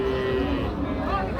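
Friesian cows and calves at a Monday cattle market in Raniganj, Ghoraghat, Dinajpur, lowing steadily and close by over a dense background of market noise.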